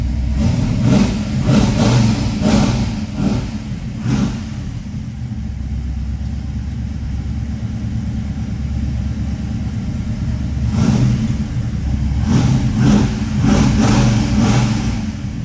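A 1969 Chevrolet Chevelle SS 396 engine revs repeatedly in bursts, settles into a low idle rumble for several seconds, then revs again several times, close and loud.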